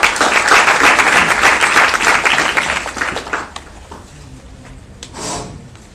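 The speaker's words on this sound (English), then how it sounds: "Let's give a round of applause." Audience applause at a national youth indaba meeting, a dense burst of many hands clapping that swells, then thins out and fades over the last few seconds.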